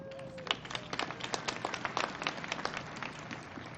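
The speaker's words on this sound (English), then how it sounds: "Yep, that's worth clapping for" Audience clapping at a Colorado governor's inauguration ceremony, a steady crowd applause of many hands with scattered sharper claps, moderately distant and continuous throughout.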